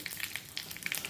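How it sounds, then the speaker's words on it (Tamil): Mustard seeds and cumin splutter in hot oil in a small tempering ladle, a brief burst of quick, light crackling pops against a soft frying hiss. "கடுகு ஜீரகம் பொரிஞ்ச உடனே ஒரு வரமிளகாய் கிள்ளினது"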